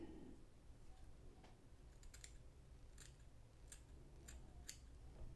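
Small scissors snipping fly-tying material at a tying bench, a few crisp, faint clicks spaced irregularly over a quiet background.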